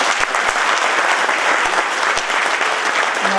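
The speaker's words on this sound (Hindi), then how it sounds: "मैं सभी से एक बार अनुरोध करता हूं कि माननीय मंत्री जी के लिए एक बार जोर से तालियां बजाएं" Steady, loud applause rises from the audience at a university convocation in Uttarakhand, many hands clapping together for the minister without a break, with no voices standing out.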